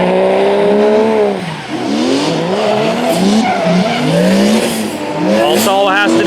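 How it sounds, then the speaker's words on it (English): Drift cars at a drift event, including a BMW, with long loud wavering tire squeals and engine whine sweeping up and down close by, continuous across the whole stretch. "Here we go, Selwa with the lead. Oh, BMW spins out"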